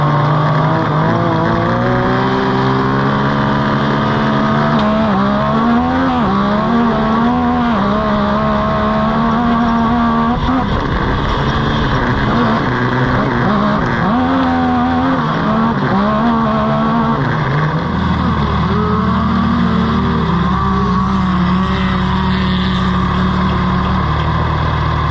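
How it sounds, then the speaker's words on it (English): Pro stock race cars on a dusty dirt speedway, loud engines droning and rising and falling in pitch as they circle the track, with several engines overlapping and no break throughout. "The pro stock race, super dusty, just wasn't going to tear anything up."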